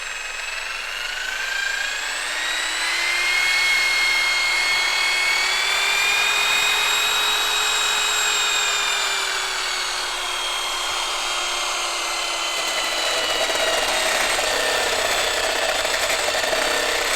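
A Porter Cable Restorer power tool runs at max variable speed against a steel plate, a loud, steady high whine with gently wavering pitch that dips slightly toward the end, with no talk.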